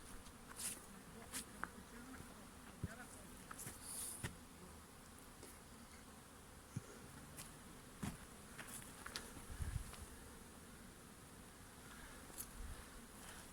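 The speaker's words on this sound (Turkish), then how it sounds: "Arkadaşlar arı göz götürmez maşallah çekin ha" Bees buzzing close by in Antalya, Turkey, a soft continuous hum with individual insects droning past, alongside scattered light taps and rustles in an otherwise quiet outdoor setting.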